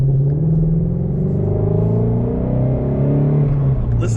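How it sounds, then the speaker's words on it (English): Ford Mustang Shelby GT350 with a flat-plane crank V8, its exhaust droning loud and close from inside while driving, a steady deep rumble with slowly shifting engine pitch and no talking. "Listen to that exhaust"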